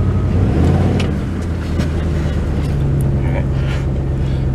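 A rusty Dodge pickup truck backs up in reverse, its engine making a loud, steady low rumble with a faint whine, while a voice speaks briefly over it.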